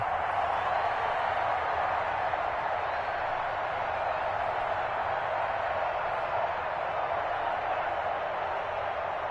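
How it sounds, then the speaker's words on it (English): Home crowd applause in a PS4 American football video game forms a steady, dense wash of clapping and crowd noise, even in level and continuous from start to end. "And the home crowd applauding."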